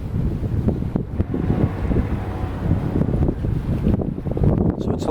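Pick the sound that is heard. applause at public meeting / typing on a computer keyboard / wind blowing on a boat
wind blowing on a boat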